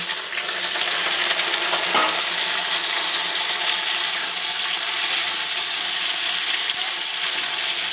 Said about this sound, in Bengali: আলুটা আমার ভাজা হয়ে গেছে এইবার এই দিয়ে দিলাম টমেটো কাটাটা কাঁচা টমেটো